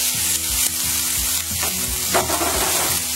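Butter sizzling in a pan as it browns to a nutty colour for cheese gnocchi: a close, continuous frying crackle with a few soft utensil taps and no voices.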